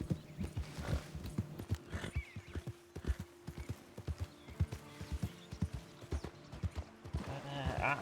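Horse hooves clip-clop at a steady walking pace in Red Dead Redemption 2, close and distinct, with a brief whinny near the end and a little speech mixed in.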